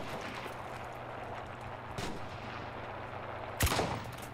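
Gunfire in the WWII shooter Enlisted: a couple of sharp, fairly distant shots over steady battlefield ambience, with a louder, closer crack and short rumbling tail near the end.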